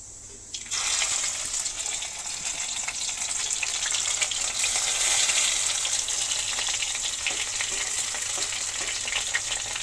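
Fish frying in a pan in a home kitchen, a loud, steady sizzle that starts abruptly after a quiet moment and holds dense and continuous throughout, with faint clinks of stirring and no talk.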